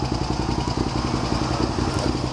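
A motorcycle engine idling close by, with a steady, even chugging pulse throughout; the charging system is suspected faulty, with a low voltage reading at idle.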